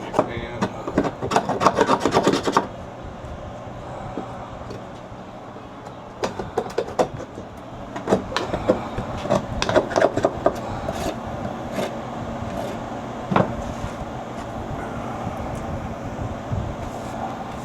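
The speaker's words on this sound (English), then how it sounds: "Take this knife. Get all the wax off you can." A knife scrapes melted wax off wooden beehive frames in repeated short rasping strokes, coming in quick bursts with pauses between, close and fairly quiet.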